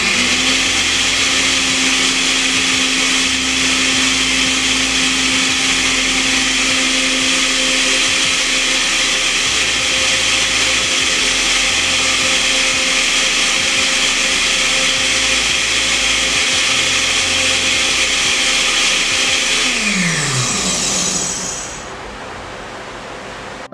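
A blender whirring at high speed through soaked almonds and water for almond milk, a loud steady motor drone with a grinding rush that holds for about twenty seconds, then winds down and stops.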